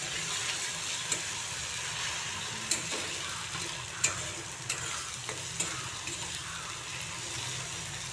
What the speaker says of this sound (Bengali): সামান্য পরিমাণে শুকনো লঙ্কার গুঁড়ো। একটু সময় এগুলোকে একটু কষিয়ে নেব